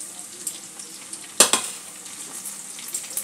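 Tomato and onion fry in a pan with a soft, steady sizzle, broken by a couple of sharp spatula scrapes and clinks against the pan partway through.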